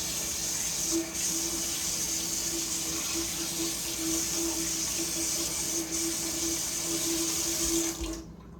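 Hands are washed under a running tap, a steady close splashing stream of water that continues evenly and then stops abruptly at the end.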